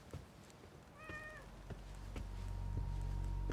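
A single cat meows once, clear and fairly close, in the video game The Medium, heard over a faint hum and low background noise that slowly grows louder.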